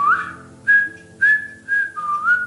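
A person whistles an imitation of bird song: several short, clear, rising and falling whistled phrases with brief gaps between them, close and loud, with no talking.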